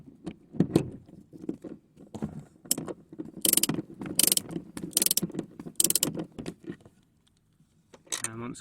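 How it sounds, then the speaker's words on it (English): A ratchet drives a 14mm socket on an extension to undo a passenger seat bolt in a Toyota Celica, with bursts of quick clicking and metallic clatter, close and fairly loud, before a short quiet gap. "here we've got our 14mm socket on an extender,"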